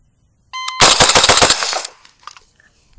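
A short electronic shot-timer beep is followed by a quick burst of about eight sharp, loud rifle shots from an 11-inch HK MR556 A4 or PWS MK111 short-barreled rifle during a timed drill. The ringing fades to quiet afterwards.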